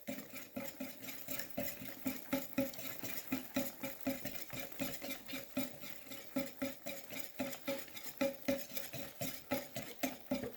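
Sugar-free waffle batter made with organic oat and millet flours is stirred briskly in a bowl. The scraping and sloshing strokes repeat steadily and close, with no talking.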